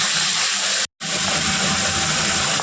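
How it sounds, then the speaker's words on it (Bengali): New potatoes frying in oil until reddish-brown: a loud, close, rushing sizzle that breaks off sharply for a split second, then resumes just as strong. "আলু কয়টা লাল লাল করে ভেজে নেবো"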